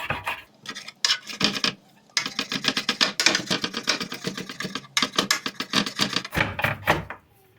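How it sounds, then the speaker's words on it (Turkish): A knife rapidly and finely chops peppers on a cutting board for a homemade chicken dürüm and spicy ezme. It makes dense, fast tapping runs in several bursts separated by short pauses, close and crisp. "Biberlerimizi de ince ince doğruyoruz."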